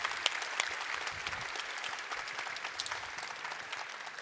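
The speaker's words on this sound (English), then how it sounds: "Then I guess a round of applause for Czaba's excellent talk." A room full of people at a security conference clapping steadily after a talk, moderately distant, with a few sharper claps standing out and a faint murmur underneath.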